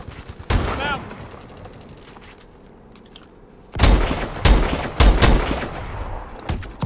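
Gunfire in Call of Duty: Advanced Warfare comes as a single sharp shot, then a quiet stretch, then rapid, close bursts of loud automatic fire with a voice talking briefly.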